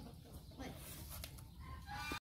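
Hens clucking in a poultry house where laying chickens are kept for egg collection, a steady mix of close, soft clucks and calls with low rustling throughout, ending in a brief sharp noise.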